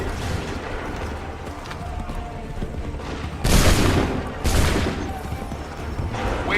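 Musket volley fire in the video game Assassin's Creed 3: two loud crackling massed musket volleys burst out, each rolling on for about a second over a busy battlefield background.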